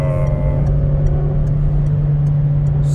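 A 2007 Citroën C5 Exclusive accelerates under full throttle from inside the cabin, a loud, steady low engine drone with a constant hum and faint ticking, no voices.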